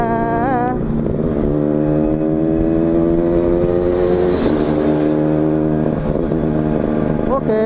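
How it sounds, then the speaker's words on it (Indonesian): A motorcycle with a stock RC exhaust is throttled repeatedly, its engine note sweeping up and down in loud, close revs that rise and fall over a continuous running drone. "Wah, digas kok nggak mau jalan ini motor ya."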